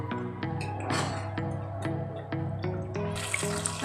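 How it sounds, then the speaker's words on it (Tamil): Water pours into a pot of chicken biryani, a steady trickle and splash running continuously at close range, with small clinks and taps of the vessel across the pour. "ஸோ நம்ம இப்போ தண்ணி ஆட் பண்ணிடலாம்."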